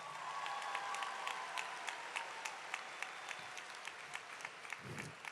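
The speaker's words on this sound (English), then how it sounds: "So let's give him a round of applause." Soft applause from a small group at a high school graduation, claps pattering steadily at a moderate distance, then fading as a low voice briefly murmurs near the end.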